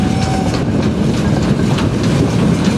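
A loaded coal freight train rolls past at close range, its wagons producing a steady, loud rumble with faint clattering throughout, no pause or break in the sound.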